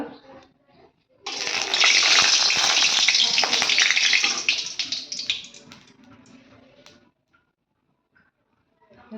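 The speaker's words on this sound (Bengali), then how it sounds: "মাছগুলো আমি ভেজে নিই এখন" Pomfret fish fry loudly in hot oil in a pan, a dense, steady crackling sizzle that starts abruptly, holds for several seconds and then fades out into quiet.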